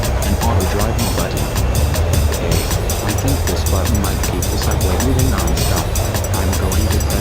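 A subway train rumbles along continuously with a low, steady roar and faint rhythmic rail clatter, loud and close throughout.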